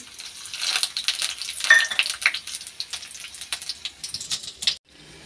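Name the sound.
frying panch phoron in mustard oil in a wok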